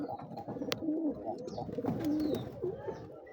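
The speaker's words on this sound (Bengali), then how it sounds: "সিরাজি কবুতরের বাচ্চা" A Sirajee pigeon chick cooing close by in a loft, with soft repeated throaty coos in short rising and falling phrases over faint background noise.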